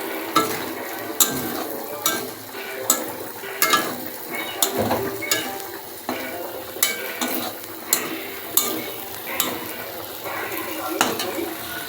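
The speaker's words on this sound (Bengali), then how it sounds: "চলো ডিম দুটো মশলার মধ্যে মিক্সিং করে নিতে হবে" Two eggs are stirred into sizzling masala in a pan for egg curry, with steady frying crackle and repeated spoon scrapes and taps against the pot, close and fairly loud.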